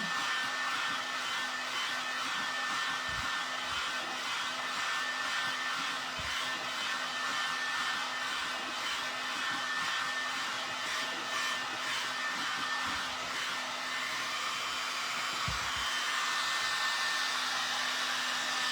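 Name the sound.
dryer blowing to dry a recycled furniture piece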